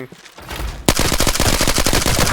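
Gunfire in the shooter game Arena Breakout: Infinite, a loud rapid automatic burst of shots after a brief quieter lead-in.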